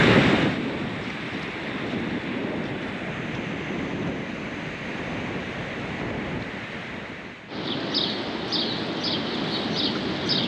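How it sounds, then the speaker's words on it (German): Open-sea surf rolls steadily onto New Zealand's northeast coast, a continuous broadband wash of waves with wind buffeting the microphone, followed by a brief dip and a renewed surge with faint high bird chirps. "Da sind wir auch schon gleich wieder beim offenen Meer."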